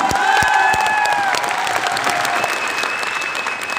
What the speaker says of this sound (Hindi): एक बार जोरदार तालियां मेरे मेंटर्स अनिता जी कपूर के लिए, जोरदार तालियां